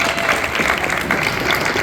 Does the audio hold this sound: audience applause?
yes